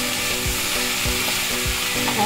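Vegetables stir-fried in a pan with salt, black pepper and lemon juice: a steady, loud broadband sizzle runs throughout, with soft rhythmic scrapes of a spatula stirring roughly every half second.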